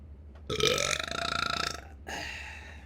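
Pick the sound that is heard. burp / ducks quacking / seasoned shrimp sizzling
burp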